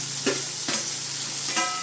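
Beans and carrots sautéing in a pan for semiya upma: a soft steady sizzle with three brief stirring scrapes, close by and without speech.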